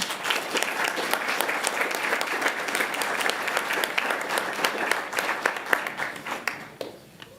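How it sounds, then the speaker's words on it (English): An audience at a school board meeting applauds the JROTC color guard after they present the colors, with loud sustained clapping from many hands that thins out near the end. "give them a round of applause for such a great job"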